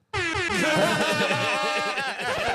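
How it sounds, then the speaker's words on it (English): A loud air horn sound effect blasts continuously for over two seconds, its blaring tone wavering slightly, played as a celebratory sting during a talk show. "Can I get some air horns for that?"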